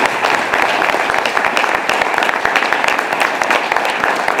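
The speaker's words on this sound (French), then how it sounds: "Applaudissez pour eux." Loud, close applause from a theatre audience saluting the performers of a stage production, a dense continuous clatter of many hands clapping at steady intensity throughout.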